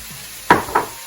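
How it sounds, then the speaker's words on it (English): Vegetables including courgette sautéing in a pan, a soft steady sizzle with two sharp scraping stirs as they are moved around, close up and without talk. "So we're just going to saute everything together, soften it a little bit"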